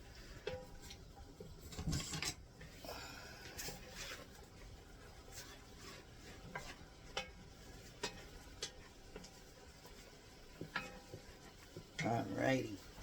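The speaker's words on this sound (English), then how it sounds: "And then we're going to stir that together" A tablespoon of vegetable oil is stirred into a mixture, heard as quiet, irregular scraping and tapping strokes, with a few louder knocks near the end.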